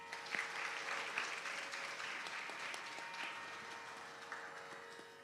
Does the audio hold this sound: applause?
yes